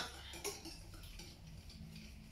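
A lemon pastry cream with cornstarch being stirred, with a few light clinks of utensil against a bowl among soft scraping, close and quiet.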